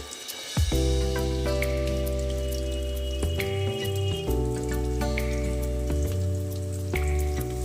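Egg-coated fish kabiraji fries gently in a pan over low heat, a soft continuous sizzle with light popping spatters and occasional clinks, close and steady with no one talking.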